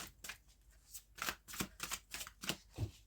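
Tarot cards are cut and shuffled by hand in a quiet room, a close series of crisp riffling flutters and soft slaps in an uneven rhythm.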